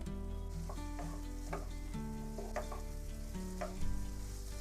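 Soaked soyabean chunks are stirred into a tomato gravy in a pan, giving soft, quiet scrapes and taps from the spoon over a faint simmering hiss, with steady tonal music running underneath.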